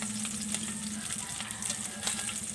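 Dried fish (buwad) frying in a pan, a steady close crackling sizzle with scattered sharper pops throughout and no talking.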